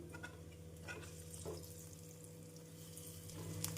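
Urad dal vadas made with rock sugar frying in hot oil over a medium flame, giving a steady soft sizzle with a low hum, occasional stirring clinks and gentle bubbling.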